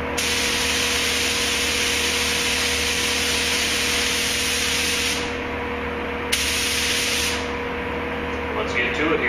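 A spray gun spraying base coat on inner fenders hisses steadily and loudly, cutting out briefly twice before starting again.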